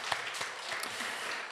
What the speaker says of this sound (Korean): 우리 10년 이상 되신 분들 향해서 우리 박수 한번 쳐주세요